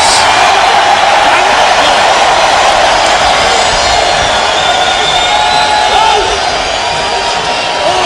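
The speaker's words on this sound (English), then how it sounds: "A lot of noise from this crowd here in Orlando" A stadium crowd at an XFL football game in Orlando roars in a loud, dense wall of noise that holds steady throughout, with a commentator's voice running over it.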